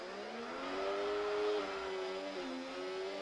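A race car engine accelerates in a Division 1 Canada race, its tone climbing and holding, dipping once and rising again, a loud continuous whine over about three seconds with no voices.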